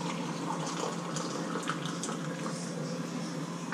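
Boiling water pours steadily into a cup to brew ginger tea, a continuous close watery gush that holds at an even level for several seconds with no talk over it.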